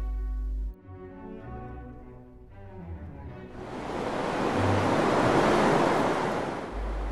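Ocean surf at St Clair Beach near Dunedin, New Zealand, heard alone: a softer wash first, then a loud, broad breaking wave that roars and hisses for several seconds with some wind rumble.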